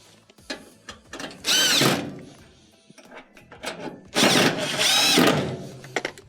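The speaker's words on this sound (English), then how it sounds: "Slide back in our Phillips screws on the front." A power drill drives Phillips screws back into the front panel of a GE dryer, two loud whirring bursts with ratcheting clicks, separated by quieter handling and tool noise.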